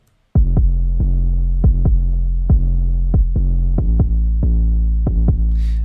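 A deep booming 808 bass panned left sustains under a punchy kick drum panned right that hits in an uneven pattern, about a dozen thumps, loud and close with no voices.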